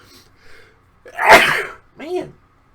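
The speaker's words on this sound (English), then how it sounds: "Oh, I'm gonna sneeze." A single loud, close sneeze bursts out, followed by a short vocal exhale, with faint talk beforehand.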